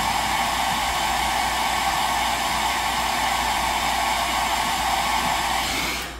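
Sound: hair dryer blow drying eyelash glue

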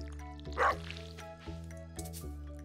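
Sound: watering crops with a watering can in the video game Stardew Valley

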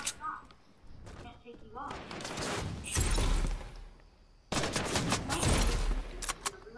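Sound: gunfire in the video game Fortnite

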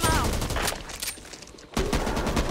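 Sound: gunfire in the video game Back 4 Blood

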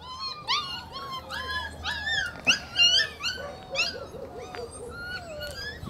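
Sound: puppies whimpering in a pen

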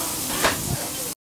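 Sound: beef cutlet sizzling on a grill

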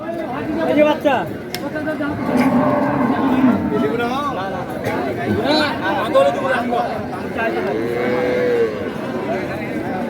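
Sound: cow and calf mooing at a cattle market

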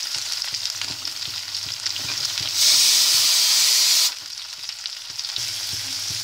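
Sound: onions added to hot oil with ginger, sizzling

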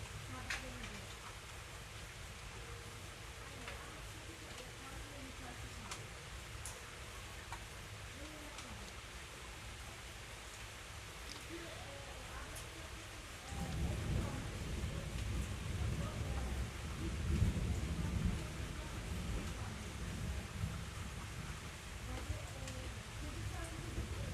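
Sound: rain falling

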